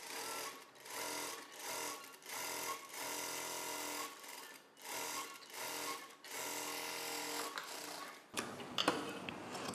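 A sewing machine stitches the belt onto a blouse piece in repeated bursts of steady rapid needle chatter separated by short pauses, close and clear, ending with a few handling clicks.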